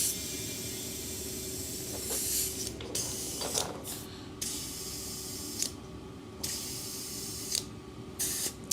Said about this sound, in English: get this tire pumped up, because currently it is debeated